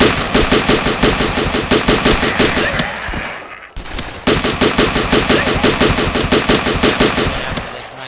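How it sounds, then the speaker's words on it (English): Rapid, sustained AK rifle fire in a video game, loud and close, in dense repeating bursts with a brief pause near the middle before the shooting resumes. "Yeah, this AK goes hard."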